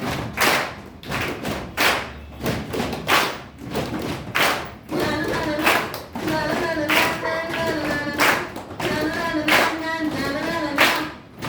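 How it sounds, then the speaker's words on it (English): A music education group performs a clap-stomp-stomp body percussion pattern, with loud, evenly spaced thuds and sharp claps repeating in a steady triple rhythm. Voices come in partway through, singing or chanting over the beat. "Clap, stomp, stomp, clap, stomp, stomp, clap"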